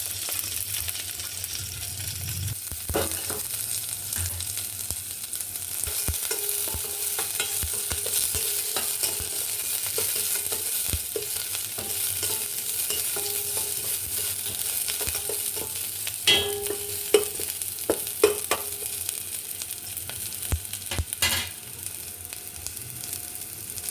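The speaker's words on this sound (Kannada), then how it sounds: "ಈರುಳ್ಳಿ ಎಲ್ಲ ಸ್ವಲ್ಪ ಬ್ರೌನ್ ಕಲರ್ ಬರಲಿ, ಟೇಸ್ಟ್ ಚೆನ್ನಾಗಿರುತ್ತೆ ಇವಾಗ" Onions and curry leaves fry in hot tempering oil for a lentil saaru, giving a steady soft sizzle throughout with occasional stirring scrapes and clinks from the pan.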